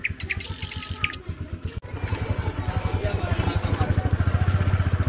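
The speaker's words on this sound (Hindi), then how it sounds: "हम लोग बाइक पर बैठ गए हैं, चल रहे हैं चौराहे पर।" A motorcycle engine putters steadily in rapid, even pulses as it rides along a village road, loud and close throughout, after a brief patch of high clatter near the start.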